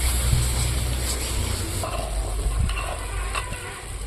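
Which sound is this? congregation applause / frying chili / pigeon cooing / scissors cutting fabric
frying chili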